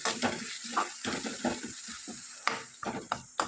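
A spoon stirs curry leaves and tomatoes in a hot pan for mutton curry, giving quick, rhythmic scraping strokes over a continuous sizzle, close and fairly loud throughout.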